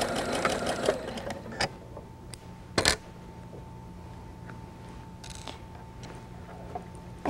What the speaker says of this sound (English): just sew off the end and then go on to an anchor cloth